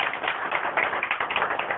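Audience applause at a public event in Hansi, India, a dense patter of many hands clapping steadily throughout, close and fairly loud, with no talk over it.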